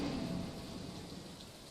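Rain falling in the Stardew Valley video game, a steady soft wash of rainfall with a low rumble underneath, faint and even over a short stretch.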